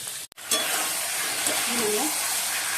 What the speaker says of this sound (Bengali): চলো আলুগুলো ভেজে নিচ্ছি